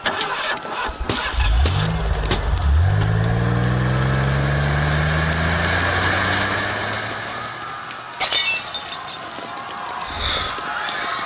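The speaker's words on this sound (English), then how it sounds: "Hey, there's a truck. That's what we need. Start the engine." Truck engine cranking and catching in a radio drama, a rising whine that settles into a steady idle, then cut off by a sharp thump before faint noise returns.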